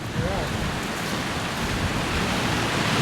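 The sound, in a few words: strong wind picking up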